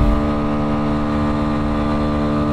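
A Yuki Scrambler motorcycle engine drones at high revs while riding in fourth gear at around 80 km/h, a loud, steady buzzing tone with no pauses.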